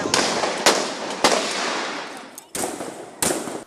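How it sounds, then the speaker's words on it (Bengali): Police fire Chinese rifles at student protesters in Dhaka, with five sharp, loud cracks spaced about half a second apart, each trailing into a long, dense rumbling echo. "চাইনিজ রাইফেলে মুহুর্মুহু গুলি ছুটছে পুলিশ"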